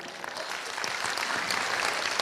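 Applause from an audience at a business talk, a dense, steady round of clapping that holds strong and slightly builds over a couple of seconds, with no talking over it.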